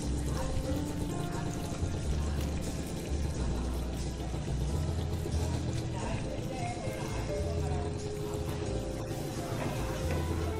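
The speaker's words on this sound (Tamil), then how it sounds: "புளி ஒரு டம்ளர் தண்ணியில் கரைச்சி வச்சுருக்கேன், எல்லாம் கழுவி ஊற்றிடுவேன்." Tamarind dissolved in a tumbler of water with rock salt is poured into a pot of curry leaf kulambu, a steady, continuous pour running through the whole stretch over a dense, busy background.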